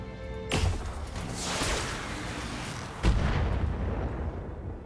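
Mech weapons firing on a turret in the BattleTech video game, heavy booming artillery-like blasts, one at about half a second and another near three seconds, with rumbling explosions and rolling debris noise between them.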